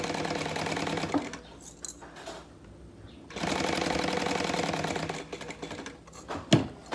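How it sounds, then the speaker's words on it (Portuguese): A sewing machine stitches synthetic leather for a binder, sewing at half speed in two close, rapid mechanical runs separated by a quieter pause, then a short final burst. "E fazendo aqui a minha costura, ó. Tô costurando com meio pé de máquina,"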